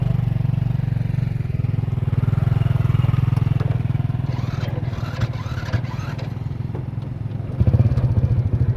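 Motorcycle riding along a road in Laos with its engine droning steadily and loudly close by, accompanied by wind rush and a brief surge near the end.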